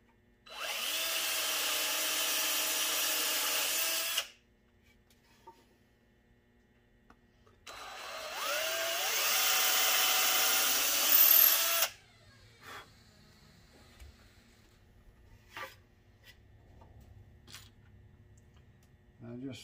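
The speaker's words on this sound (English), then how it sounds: "Drill a couple pilot holes." A power drill bores pilot holes into live-edge cedar wood in two sustained whirring bursts of about four seconds each, followed by quieter handling noises in the workshop.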